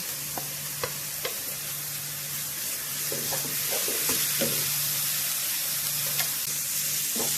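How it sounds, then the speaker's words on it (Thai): Close-up stirring of chopped shallots in coconut milk in a sizzling pan, a spoon scraping and tapping in an irregular rhythm over a steady low hum. "ถ้ากะทิพัดจนสุกจนมันเข้ากันดีเลยเนาะ พัดจนหอมแดงสุกแล้วเนาะ"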